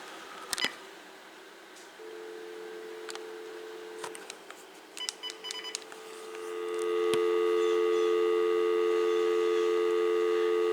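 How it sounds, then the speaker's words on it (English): A few clicks and button beeps on a Uniden EXAI5680 cordless telephone, then a steady electronic dial tone sets in and holds, loud and continuous through the end. "Can you hear the dial tone perfectly?"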